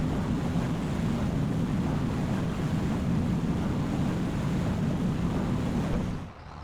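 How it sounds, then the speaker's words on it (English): A barge crosses a river in Farming Simulator 25, giving a steady low rumbling wash of engine and water noise that holds evenly before dropping off at the end. "getting onto the barge here. Let's go ahead and cross the river back up to the farm."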